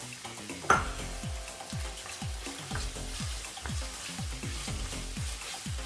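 Green and red peppers with scotch bonnet pepper sizzle steadily in a frying pan for fried rice, a sharp clatter near the start followed by a continuous bed of frying with repeated stirring scrapes throughout.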